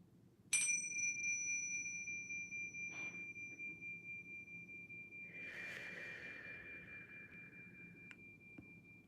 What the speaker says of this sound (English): I'm going to go ahead and just play these chimes to clear the energy